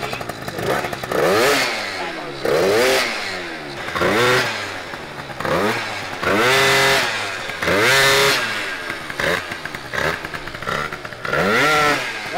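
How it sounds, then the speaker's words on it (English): A Malossi RC-One 94cc two-stroke scooter engine warming up, revved hard over and over in loud, close, rising and falling bursts with a buzzy, raspy tone that goes on without a break. "That's how you warm a bike up."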